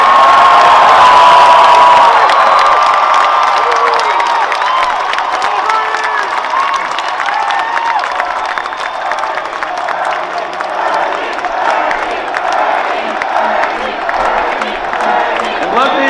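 A huge crowd at a Bernie Sanders presidential rally in Los Angeles roars, cheers and whoops continuously, with scattered clapping and high shouts in a dense, sustained wash of noise.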